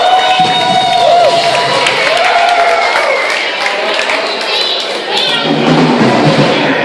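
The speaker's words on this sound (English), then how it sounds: "give all of yourselves a big round of applause" A crowd at an underground music benefit show claps and cheers in a dense, steady roar, with voices and some children's chatter mixed through the noise.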